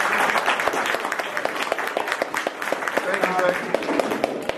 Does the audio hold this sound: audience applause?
yes